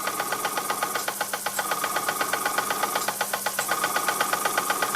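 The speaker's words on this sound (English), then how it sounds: "the engine runs." An old Bing toy steam engine runs after repair of its steam pipe and piston cylinder, a fast steady chuffing and mechanical knocking at close range that continues evenly throughout.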